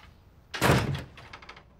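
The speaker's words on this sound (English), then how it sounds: "Shut the door." An indoor door swings shut with a single close, solid thunk, followed by a few faint rattling knocks as it settles.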